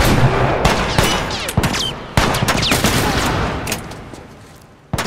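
Sharp pistol and gun shots crack out in irregular bursts during a fight in The Last of Us, several loud reports spaced across a few seconds over gritty background noise, with a final abrupt shot at the end.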